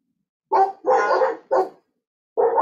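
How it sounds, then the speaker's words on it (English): A dog barks close by, three quick barks followed by a pause and then one more, clear with no talking. "I have dogs."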